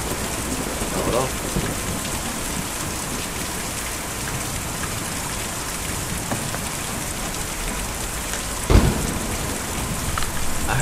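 Heavy rain hisses steadily in the video game Kentucky Route 0, with distant thunder rumbling low and one sharper crack late on.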